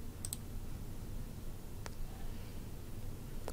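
A mouse click on a punch-in button in a browser, a few small crisp clicks, one pair near the start and a single faint click later, over quiet room hiss.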